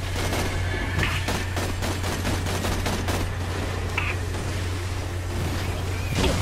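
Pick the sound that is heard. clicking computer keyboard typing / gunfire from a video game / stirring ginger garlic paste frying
gunfire from a video game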